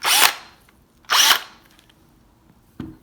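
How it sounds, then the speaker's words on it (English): Two short bursts of a DeWalt electric drill whirring, each lasting about a quarter second, followed by a faint click; close and fairly loud. "So what I did was grab my DeWalt drill."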